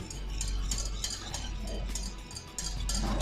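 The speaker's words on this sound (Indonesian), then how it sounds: "Kemudian kita aduk mayonesnya. Kita aduk kuning telurnya dulu." Egg yolk for mayonnaise stirred briskly in a bowl makes a rapid run of close clinking, scraping strokes with a low hum underneath and no talking.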